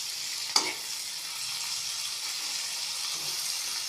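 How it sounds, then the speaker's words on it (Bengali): Soaked raisins fry in a pan, giving a steady, close sizzle throughout, with one sharp clink of the stirring utensil near the start and no voices. "এর মধ্যে ভিজিয়ে রাখা কিশমিশগুলো একে একে দিয়ে দেবো, দিয়ে ভাজবো, নাড়াচাড়া করে নেবো।"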